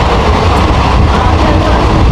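A passenger train runs steadily on the rails near Guptipara station in Bengal. A loud, constant rumble of wheels and carriages fills the whole stretch, heard from on board, with no pauses.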